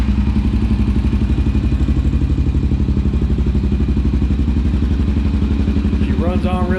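A Honda Rincon ATV with a jetted-up carburetor idles close by in a steady, rapid thumping chug that holds evenly throughout, with a voice briefly speaking over it near the end.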